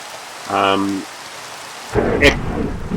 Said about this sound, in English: Oh, and thunder, yeah.